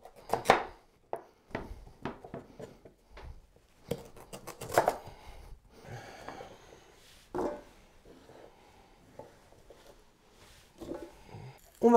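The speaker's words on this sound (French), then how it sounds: "Maintenant on va le couper en morceaux." Knife chopping a red kuri squash into pieces on a cutting board: a dozen or so sharp, uneven thuds and cracks close to the microphone, with quiet pauses between cuts and no talking.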